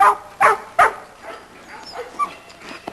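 A young dog, about 19 months old, barks in a yard with three sharp, loud barks close together, then softer yips and whimpers trail off.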